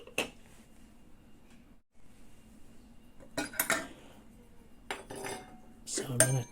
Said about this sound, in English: So I'm going to take out the funnel bit